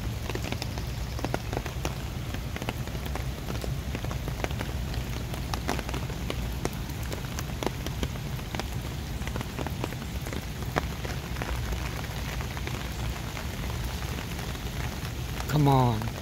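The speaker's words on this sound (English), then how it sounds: "It's a huge, surprising rain." Heavy rain pours steadily over a flooded park beside an overflowing creek, a dense, continuous hiss of drops on water and ground close by, with a brief rustle near the end.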